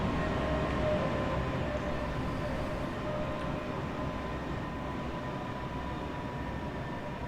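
A BR Class 377 electric train braking as it slows into a station, heard from inside as a steady, loud rumbling roar with faint whine and no voices.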